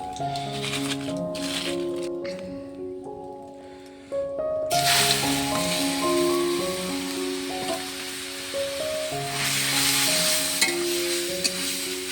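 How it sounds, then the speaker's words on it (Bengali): Papaya pieces sizzle and crackle in hot oil with bay leaves and cumin, growing louder partway through, with steady tonal music playing throughout. "কড়াইতে দুটো তেজপাতা আর জিরা ফোড়ন দিয়ে এখন আমি পেঁপেগুলো দিয়ে দেব"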